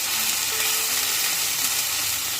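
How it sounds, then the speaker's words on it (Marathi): Misal masala and a quarter spoon of turmeric frying in hot oil for Puneri misal, a loud, steady, close-up sizzle that carries on without a break. "मिसळ मसाला आणि पाव चमचा हळद याला चांगलं शिजू द्यायचं"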